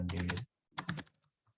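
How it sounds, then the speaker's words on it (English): Keys clatter on a computer keyboard as a sentence is typed, a quick burst of close clicks, a short pause, then a second burst trailing off into a few isolated taps. "I'm typing a sentence right now."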